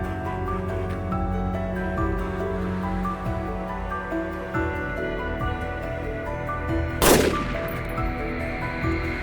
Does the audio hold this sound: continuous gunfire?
yes